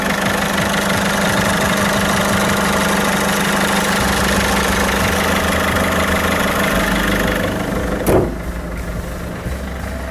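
A Peugeot 1.6 HDi diesel engine idles with the bonnet open, a steady close mechanical drone with diesel clatter throughout, followed near the end by a brief sharp knock.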